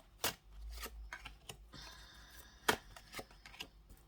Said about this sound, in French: Je vais tirer les cartes et on se fera le tirage tranquillement.